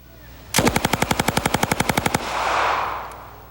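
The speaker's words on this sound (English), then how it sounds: "That was a 20-shot clip gone in 1 2/3 seconds." A 71-year-old Thompson submachine gun empties a 20-round clip in one fast burst of evenly spaced, loud, close shots lasting under two seconds, followed by a rushing echo that fades out.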